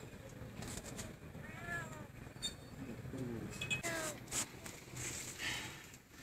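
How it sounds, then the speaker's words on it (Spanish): A cat meows several times during a rescue with police, thin and fairly faint plaintive calls rising and falling, with voices and background noise around it. "Yo también he sentido que hay un gato"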